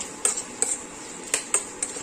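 A spoon stirs turmeric into a pot of village-style sambar, with about five sharp metallic clinks of utensil on pot spaced irregularly against quiet background, fairly close.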